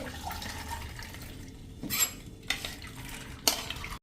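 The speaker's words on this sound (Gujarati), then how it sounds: "અને હવે આપણે આ જે સૂપનો જાર હોય ને ગળણો, એમાં આપણે એને નિતારી લેવાની છે આ રીતે" Washed split lentils being drained through a metal strainer over a soup jar: a soft wet rustle of trickling water, broken by a few sharp metallic knocks and clinks.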